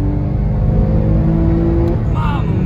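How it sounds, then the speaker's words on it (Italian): A Porsche accelerates hard at around 200 km/h, its engine giving a loud, steady roar with rising tones, close and continuous throughout. "Siamo andati a 200 all'ora su una Porsche."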